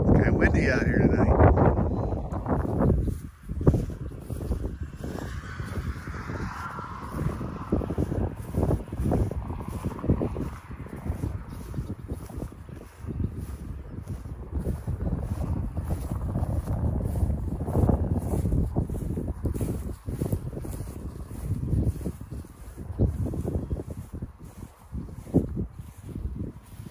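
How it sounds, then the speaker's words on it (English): Steady wind buffets the microphone outdoors, a continuous low rumble and whoosh that rises and falls in gusts throughout. "It's kind of windy out here tonight."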